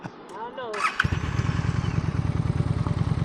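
A motorcycle engine starts and settles into a steady, throbbing idle with throttle preload during slow-speed riding practice, close by and loud, with a voice heard briefly at the start.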